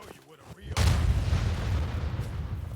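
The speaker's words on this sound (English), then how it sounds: "It's supposed to be like cannon fire, I guess." A single heavy cannon blast in Skyrim booms out after some quiet, then a long rumbling low-end decay fills the rest of the moment, with a faint voice briefly audible before the shot.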